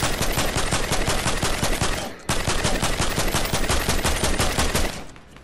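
Rapid automatic gunfire in a Fortnite duos match, loud continuous bursts of shots with a brief pause midway before the firing resumes and then cuts off.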